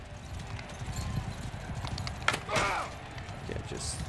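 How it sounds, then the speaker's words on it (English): Horses gallop across a battlefield in the Mount & Blade video game, a steady patter of hooves under someone talking, with a brief sharp clash partway through. "Too many horses on the battlefield."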